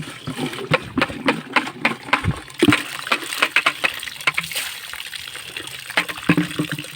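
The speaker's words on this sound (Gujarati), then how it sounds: "સીધો નળ ચાલુ રાખીને ધોવું છે એટલે બીજી વખત પાણીમાં ધોવા ન પડે" Cucumbers are washed under a running tap, with splashing water and irregular knocks and rubbing as the vegetables are handled up close.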